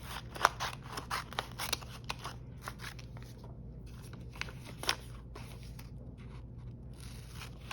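Scissors snip through thin printed paper in a run of crisp, close cuts with short pauses, over a quiet low hum.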